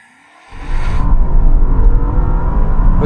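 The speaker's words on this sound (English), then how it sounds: "with a little bit of tyre spin" A Maserati Ghibli Trofeo launches hard with a little tyre spin: after a brief quiet moment, a loud engine roar surges up and holds steady, close and strong, with no talking.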